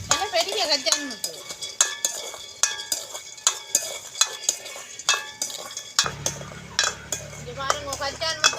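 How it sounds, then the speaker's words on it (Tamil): Peanuts roast in a pan while a utensil stirs them with steady, rhythmic scraping strokes about twice a second. The scrapes are close and crisp over a faint frying crackle. "இங்கே பாருங்க, கச்சான் முத்து வறுபட்டுட்டு."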